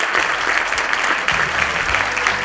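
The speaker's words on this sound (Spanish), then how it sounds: "Reiteramos el aplauso." Audience at a Spanish-language book presentation about a spring garden claps loudly and continuously, a full, close round of applause with a low murmur of voices underneath.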